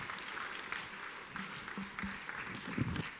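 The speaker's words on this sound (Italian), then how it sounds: "accogliamo con un grande applauso" Brief, moderately distant audience applause at an international violin competition award ceremony, with steady overlapping clapping lasting a few seconds and faint voices mixed in.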